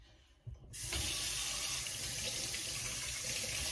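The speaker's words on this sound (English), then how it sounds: "I'm washing the apple off, y'all." An apple is rinsed under a running kitchen tap, a brief splash followed by a steady, close rush of water that continues without pause.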